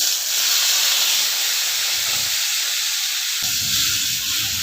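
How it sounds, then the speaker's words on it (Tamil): Tomatoes hit hot oil already crackling with mustard seeds, curry leaves, fennel, cinnamon, cloves and cardamom for coconut milk rasam, setting off a loud, steady, steam-like sizzling hiss that swells slightly partway through. "தக்காளி நல்லா வதங்கட்டும்."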